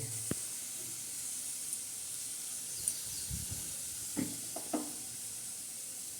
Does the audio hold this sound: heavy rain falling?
no